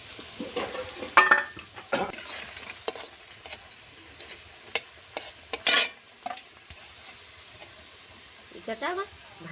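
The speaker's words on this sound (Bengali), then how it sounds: "একে একে আমি সমস্ত পুলি পিঠেগুলো এরকম করে তেলেতে ভেজে নিব।" Puli pitha fry in hot oil with a continuous close sizzle, broken by clattering utensil taps and scrapes and occasional bits of voice.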